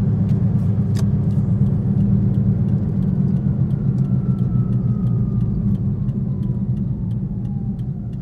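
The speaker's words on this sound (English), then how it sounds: "wait for these cars to pass." Steady engine and tire rumble of cars passing by on a road close by, loud and continuous for the whole stretch with no talking, slowly fading slightly toward the end.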